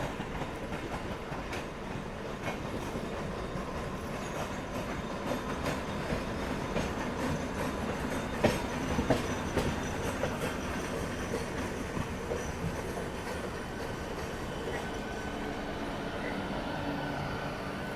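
A Mumbai local train rolls along at steady speed near Goregaon, a continuous rumble with rhythmic clickety-clack of the wheels and occasional metallic squeals, loud and close.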